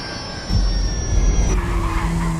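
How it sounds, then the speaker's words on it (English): A falling plane in Grand Theft Auto V on Xbox, with a loud whine that drops in pitch, then heavy rumbling, skidding-like roar and a steady engine drone, close and continuous. "Plane's coming down."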